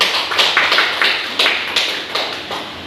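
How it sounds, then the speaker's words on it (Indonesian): A short round of applause for a classroom group presentation, heard as a few sharp claps in a quick, steady rhythm, close by and without voices. "Kepada kelompok 1 kita berikan aplaus."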